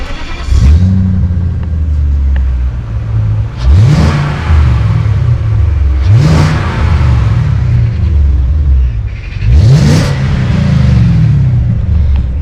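A BMW E39 540i V8 cranks over and revs three times in succession, each burst rising sharply then settling back to a steady, loud idle rumble, close by with no one talking.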